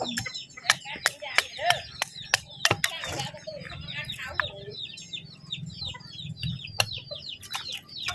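Chickens cluck close by in short, busy bursts, joined by a string of sharp knocks and clatters, with faint voices in the background.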